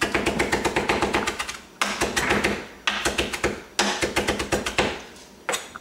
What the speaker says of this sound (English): I'm gonna chop the cilantro and the parsley, equal amounts